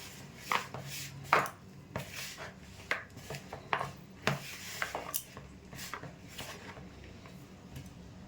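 Flour dough mixed with oil shortening and a little water being kneaded by hand, with soft irregular squelching slaps and rubbing thumps at close range, no voices.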